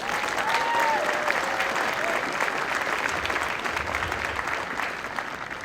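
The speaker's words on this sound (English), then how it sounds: "How about another round of applause for the veterans?" Audience applause for veterans at an Air Force basic military training graduation ceremony, a large crowd clapping steadily in a broad wash with a brief whistle early on, easing slightly toward the end.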